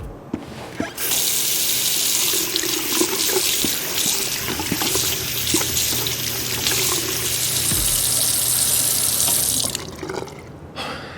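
Water gushes steadily from a bathroom sink tap in the video game Twin Mirror, a loud continuous splashing stream that starts abruptly and stops near the end.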